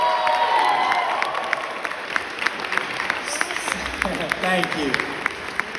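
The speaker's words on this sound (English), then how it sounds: "can we just give my wife a round of applause" An audience at a recovery talk claps and cheers for a speaker's wife, a full, lively burst of applause with whoops. A voice speaks briefly over it.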